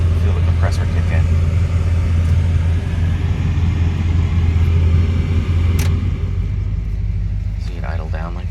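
A 1965 Chevrolet Caprice with a 396 big block V8 idles with a deep, steady rumble that eases slightly lower toward the end, loud and close, with a voice briefly heard over it.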